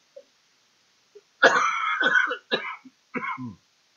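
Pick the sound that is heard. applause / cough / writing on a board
cough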